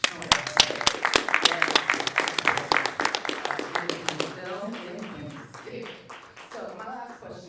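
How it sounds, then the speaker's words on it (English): Audience applause at a red carpet premiere, dense overlapping clapping that starts loud and gradually thins and fades, with voices talking over the tail end. "give yourself a round of applause"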